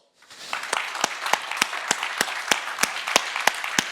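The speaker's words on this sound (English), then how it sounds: "And can we give a round of applause?" An audience applauds at the close of an interview, a dense, steady wash of clapping with sharper individual claps popping out at a regular pace. It rises quickly and holds at moderate loudness, with no talking.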